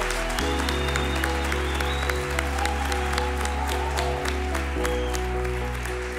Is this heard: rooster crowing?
no